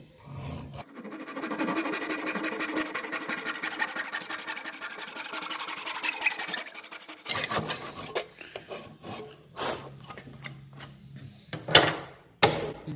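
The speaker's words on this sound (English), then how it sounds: "And then of course a real professional woodworking tenon saw." A professional tenon saw rips through timber held low in a vise for a wedged mortice and tenon external door, giving a steady rasping drone of sawing strokes for about seven seconds, then a few separate scrapes and knocks.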